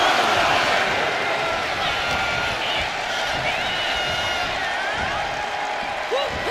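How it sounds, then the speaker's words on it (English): A packed wrestling arena crowd at a WWE Great American Bash event roars and cheers in a steady, dense wash of noise, while an announcer talks over it. "Becky is revving this crowd up"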